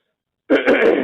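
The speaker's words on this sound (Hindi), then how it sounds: "थोड़ी खांसी सी आ रही, खराश से" A short, harsh cough burst up close, rough and throaty, after a moment of silence.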